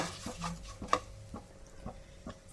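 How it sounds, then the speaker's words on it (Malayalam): A spoon stirs and mixes salt into spiced garlic pickle ingredients in a pan, with several soft scraping strokes and light clinks of metal against the pan, faint with a low hiss beneath. "നന്നായി മിക്സ് ആക്കി എടുക്കാം."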